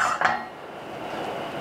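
A metal frying pan is handled on a stove, with a bright clatter near the start and a soft sizzle-like hiss that trails on through the rest of the clip, and no one talks.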